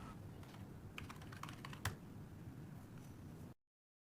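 Light, rapid keystrokes on a computer keyboard tap out a login password, a quiet, close, irregular clicking run that stops abruptly after about three and a half seconds.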